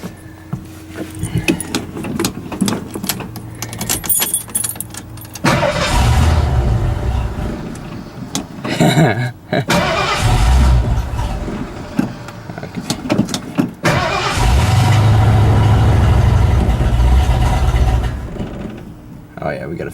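A Ford F-150 pickup truck with a faulty choke cranks and fires, with clicks and handling noise first, then two loud, close bursts of engine roar that stall between them; a person talks over parts of it.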